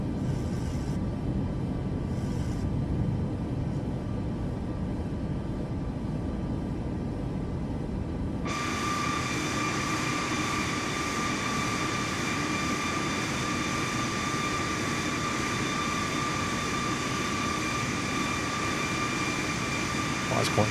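A jet airliner taking off in Microsoft Flight Simulator 2024 builds into a steady engine roar with a high whine that holds for the rest of the takeoff, and a voice talks faintly beneath it.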